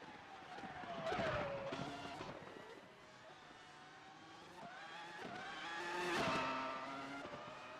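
A race car laps Sandown in qualifying, its engine note rising and falling through gear changes as it sweeps past, moderately distant, with faint tire noise.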